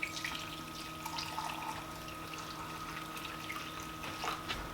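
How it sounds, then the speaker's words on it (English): Water trickles and pours steadily into a cup with bouillon, a soft continuous liquid splash with light bubbling, close by and fairly quiet. "pour in 2 cups of water"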